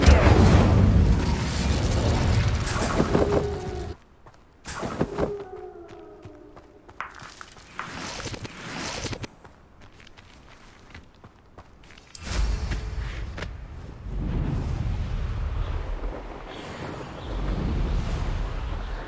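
A fire spell, Incendio, is cast in the Hogwarts Legacy video game, producing loud whooshing bursts and booming impacts amid other spell effects, with quieter gaps and a rumbling, crackling stretch afterward.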